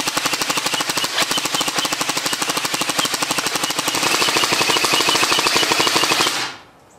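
A G&G PCC 45 airsoft SMG fires in a long rapid full-auto burst, a dense, even mechanical rattle with a faint cyclic pulse and no pause, heard close and loud for about six seconds before stopping abruptly.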